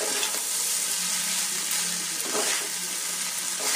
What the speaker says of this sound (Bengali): এবার এর মধ্যে দিয়ে দেবো ভাতটা। এবার মিক্স করে নেবো।